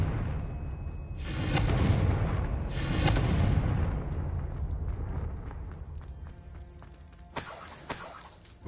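Two broad fiery bursts from a Confringo spell in the Hogwarts Legacy video game, about a second apart, each with a roaring crackling tail, followed by quieter game ambience and a sharp bright impact near the end.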